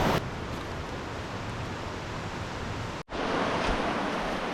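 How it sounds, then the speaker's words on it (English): Rushing water from a double waterfall beside the Waioeka River in New Zealand, a steady loud broadband roar filling the whole clip, briefly cut off near the end before resuming. "It's like a double waterfall."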